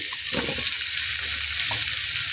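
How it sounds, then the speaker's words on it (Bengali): Mashed potato being stirred and scraped in a hot pan, a steady frying sizzle with a few soft scraping strokes near the start and end, close and fairly loud, no talking. "আলুটা, একটু নেড়ে দিয়ে নিই।"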